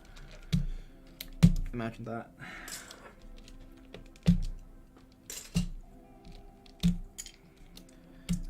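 Clicks, snaps and plastic rattles while a computer keyboard with Gateron Red switches is taken apart, irregular sharp taps spread across several seconds, with someone talking briefly over them.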